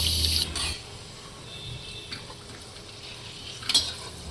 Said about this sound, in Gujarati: થોડું ઘી ગરમ થાય એટલે એમાં કાજુ અને કિસમિસ તળી લેવાના.